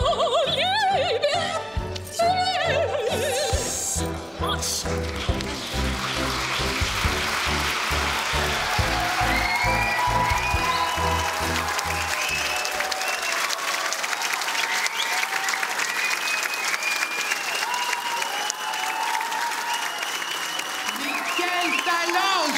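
Loud, sustained audience applause with crowd noise after a group performance at a university stage evening in Cergy, starting over the tail of music and continuing as a dense roar of clapping.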